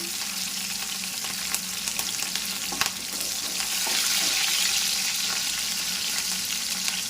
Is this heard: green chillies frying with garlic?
yes